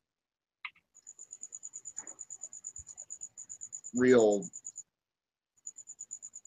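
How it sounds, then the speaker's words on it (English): Crickets chirp steadily outdoors in pulsed, rhythmic trills, interrupted by a brief voice in the middle and a short pause near the end. "I heard the crickets"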